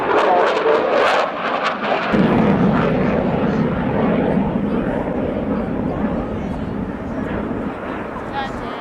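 A jet fighter powered by twin EJ200 engines roars past at an airshow, a loud, sustained, broadband thunder that swells and then holds steady, with a commentator's voice over it.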